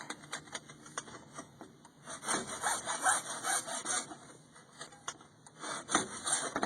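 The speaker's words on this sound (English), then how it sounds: "with the hacksaw until my hacksaw blade is even with the top" A hacksaw cuts through well pipe on a shallow 30-foot water well, giving uneven rasping strokes that come in bursts, fairly close and moderately quiet.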